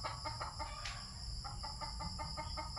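A chicken clucks repeatedly in quick, rhythmic bursts, fairly quiet and close, over a steady background hum.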